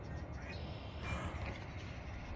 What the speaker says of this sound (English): Yeah, it's a bird.